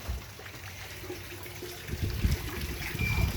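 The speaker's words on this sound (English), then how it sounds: "Raining again." Rainwater trickles and splashes steadily during a hurricane, a low, continuous wet wash that thickens slightly toward the end, with no talking.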